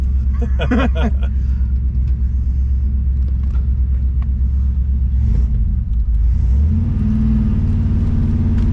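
A 1966 Ford Fairlane with a 390 FE V8 and four-speed drives along while the clutch slips, giving a loud, continuous low engine rumble that steps up in pitch near the end, with talk over it.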